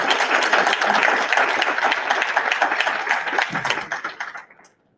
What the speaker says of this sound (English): Everybody give Ms. Cardoso a round of applause.